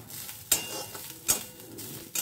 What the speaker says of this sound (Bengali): আগে এটা ভালো করে ভেজে নিচ্ছি